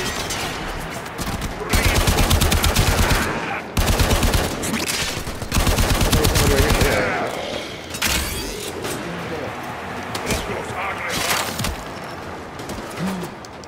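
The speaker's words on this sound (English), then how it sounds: "whenever I shoot my assault rifle, it just shoots one round sometimes" Assault rifle fire in the video game Warframe, long sustained automatic bursts broken by short gaps, loud and close, with players talking between volleys.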